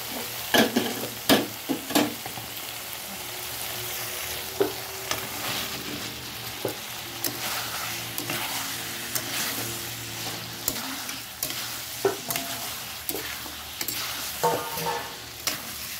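Potatoes frying in a pan with salt and turmeric, a close steady sizzle broken by repeated scrapes and clinks of stirring.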